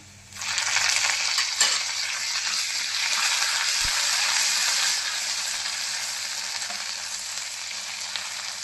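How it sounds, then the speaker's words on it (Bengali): Garlic frying in a pan for garlic chicken, a bright and even sizzle that swells as it starts, with a stirring clink partway through, close and without talk. "এখন নাড়িয়ে চেড়ে লাল করে ভেজে নেব।"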